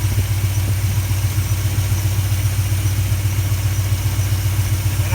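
Car engine fitted with a four-barrel carburetor on a two-barrel intake, idling with a steady low rumble and slight irregular pulsing, continuous and close, no talk.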